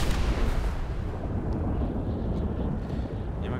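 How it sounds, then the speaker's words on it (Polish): Distant gunfire in Grand Theft Auto V during a Halloween game mode, a dense continuous rumble of shots and explosions with low booming texture, steady and fairly loud with no talking. "Jakieś strzały słyszę."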